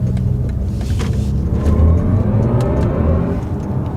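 A BMW i4 M50 electric car accelerates hard, giving a steady rising whir with low road rumble and wind noise, loud and close inside the cabin.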